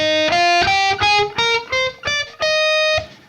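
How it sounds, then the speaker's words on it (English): An electric guitar plays a major scale at a moderate tempo, with seven distinct notes picked one after another and each ringing clearly before the next, heard alone without talk. "So if we played it a little bit up to speed, following the whole step and half step formula"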